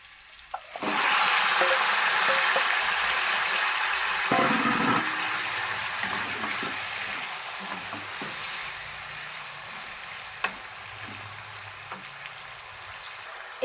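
Chicken poured into a pan of browned onions sets off an abrupt, loud sizzle that settles into a steady frying hiss, with occasional stirring clatters and pops.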